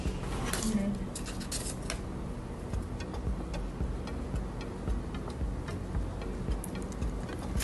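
Typing on a computer keyboard while entering a tax number at a login screen, a steady patter of close, light key clicks over a soft background hiss.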